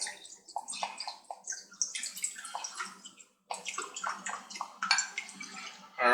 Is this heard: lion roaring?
no